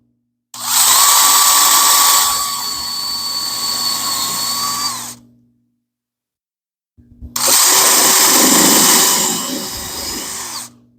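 Power drill boring a starter hole into very hard wood: two loud, close bursts of whining motor noise, each several seconds long, with a steady tone that dips slightly under load, separated by a brief silence.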